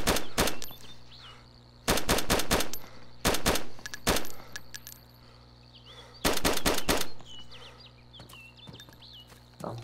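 Gunfire in the DayZ video game: several bursts of rapid loud shots in clusters, separated by short pauses, over a steady low background hum.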